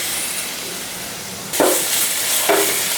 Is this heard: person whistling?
no